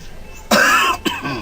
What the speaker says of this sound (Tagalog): Kay sigin kag ubo.